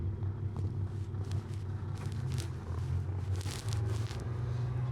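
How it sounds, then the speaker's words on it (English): A Kenworth T880 truck rolls slowly downhill in low gear with no brakes applied, the transmission holding it back. It makes a steady low engine drone with a faint rumble and a little road noise. "So no foot on the brake, just the transmission holding us in position."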